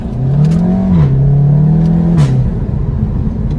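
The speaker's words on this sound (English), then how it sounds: "So you can see you really get some of those nice upshift sounds with the DSG." A Seat Leon Cupra 300 with a DSG gearbox upshifts under acceleration, its exhaust droning loudly up in pitch, then dropping sharply at each gear change, with a throaty burble as the revs settle.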